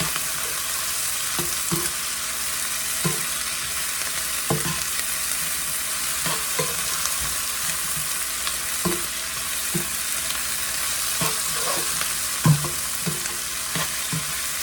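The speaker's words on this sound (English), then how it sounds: "Bacon grease with onions and garlic, guys." Onions and garlic frying in bacon grease, a steady close sizzle with regular spatula scrapes and taps against the pot, no talking.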